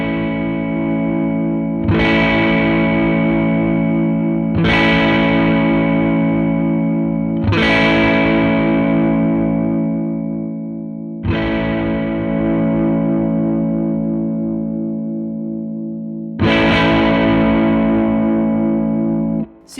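An electric guitar played through a dual overdrive pedal with its blend toggled on, set to the ODR side: five loud distorted chords struck one after another and each left to ring out and decay.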